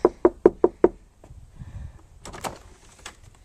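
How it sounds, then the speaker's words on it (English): Five sharp knocks on a house door in a quick, even burst, close and crisp, then quiet shuffling and a few faint clicks. "And I am knocking on the door."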